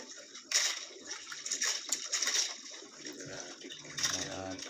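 Rushing current of seawater swirls and splashes around a fishing boat while grouper fishing, a continuous watery wash with surges, with people talking over it.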